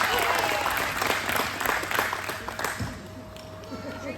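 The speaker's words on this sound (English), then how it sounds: "Give Chloe a round of applause" A full audience applauds steadily on stage at a Saratoga Springs event, dense continuous clapping for about four seconds with a faint voice underneath.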